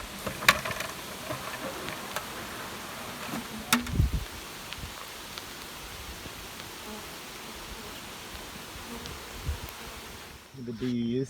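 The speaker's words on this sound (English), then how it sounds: "The bees." Bees swarming on a rainy day give a faint, continuous buzzing hum in the background, with scattered close knocks and rustles, and a brief voice near the end.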